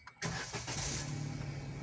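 A car engine cranks and catches after a brief quiet moment during a driving lesson, then settles into a steady idle hum that runs close and clear to the end.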